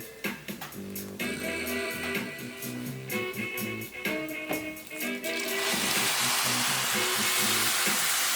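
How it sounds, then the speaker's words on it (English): Water pours into a pot of sizzling turmeric jasmine rice with vegetables, the steady frying crackle giving way to a loud, continuous rushing splash that fills the last few seconds. "Alright, so now I'm going to add the water."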